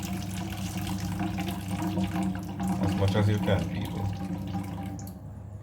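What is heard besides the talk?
pouring juices off a pan of baked chicken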